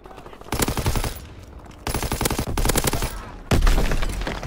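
Loud automatic weapon fire in a Call of Duty game comes in three long sustained bursts separated by short pauses, close and punchy, with faint speech in the background.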